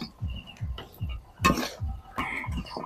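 Jaggery jhuri mixture with rice flour stirred in a pan, a steady rhythm of repeated scraping strokes with a few sharper clattering scrapes, close and clear with no talk.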